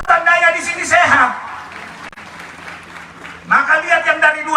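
An audience at a Christmas church gathering gives a short burst of applause, a couple of seconds of dense clapping between stretches of someone speaking loudly.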